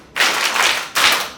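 Young confirmation candidates clap their hands at a church gathering, two dense, loud bursts of many hands clapping at close range, the first longer than the second, with a short gap between them.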